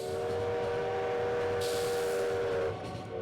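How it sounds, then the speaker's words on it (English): A train arrives in the video game Lobotomy Corporation, a sustained tonal whistle-like drone over a rumbling rolling sound, steady and prominent before dropping away near the end, with no voices. "And I hear train!"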